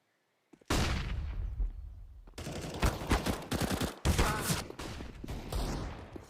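Counter-Strike match gunfire with an AWP sniper rifle in the mix, a sudden dense barrage of loud shots that starts abruptly and repeats in heavy bursts, close and overlapping.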